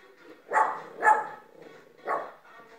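A female dog growls and barks in three short, close bursts, each rough and fairly loud, with quiet gaps between them and no talking.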